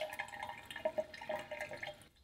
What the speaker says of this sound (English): 250 grams of rice into a bowl and wash with cold water